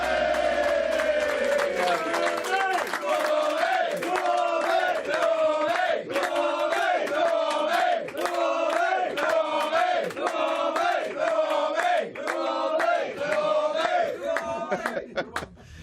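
A capacity studio audience for a football TV show chants and cheers loudly in a steady rhythmic pattern, voices rising and falling together in repeated pulses for the whole stretch.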